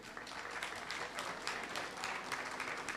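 Audience applause at a concert ceremony in Antalya, a dense steady patter of many hands clapping throughout, moderately loud and continuous with no speech over it.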